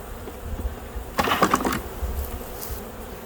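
A dense, buzzing swarm of honeybees being shaken off a hive frame swells up close for about half a second, then fades back into a faint background hum.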